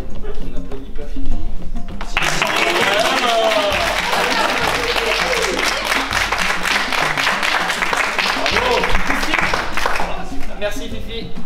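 An audience at a Koh-Lanta finale event in Saint-Léo breaks into sustained applause for several seconds, dense clapping rising after a short pause and continuing steadily with talk and room noise mixed in.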